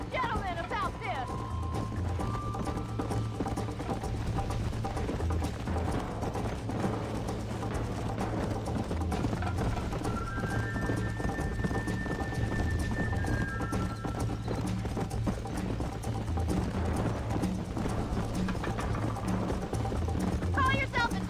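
Steady clip-clop of a horse galloping in Red Dead Redemption, running continuously and close for the whole stretch, with occasional whinnies, background game music and some speech.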